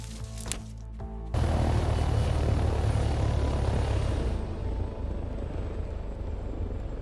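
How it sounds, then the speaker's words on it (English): Helicopter flying overhead in the video game DayZ, a loud, steady rotor and engine roar that starts abruptly after a brief quiet moment and holds, easing slightly toward the end. "I'm guessing this is like a heli or something"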